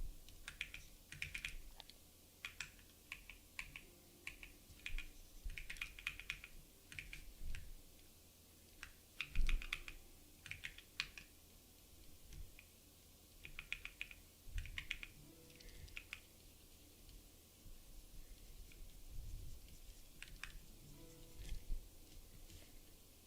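Steady typing on a computer keyboard with bursts of quick key presses and hotkey hits while using a painting app, the clicks close and fairly quiet with irregular pauses between runs.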